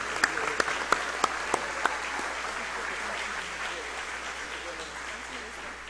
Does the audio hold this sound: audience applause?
yes